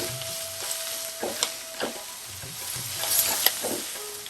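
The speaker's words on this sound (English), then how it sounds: "I'm adding half a teaspoon of turmeric powder, and I'm going to mix this." Onions softening in a pan with half a teaspoon of turmeric powder being stirred in, giving a soft steady sizzle broken by a few scraping spoon strokes, close and fairly quiet, with no talking.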